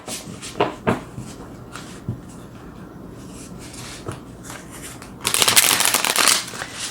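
Tarot cards shuffled close by, with soft scattered riffles and taps, then a louder, denser burst of shuffling near the end.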